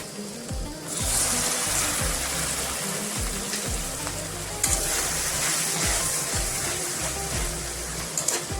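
Water poured into a pan of sizzling keema with ginger-garlic paste sets off a loud, continuous hiss and bubbling frying sound with some stirring, close up and without talk.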